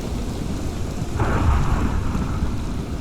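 Heavy rain and rolling thunder from a Minecraft storm, a dense steady wash of low rumble and pattering rain with a brief swell of brighter noise in the middle, no voices.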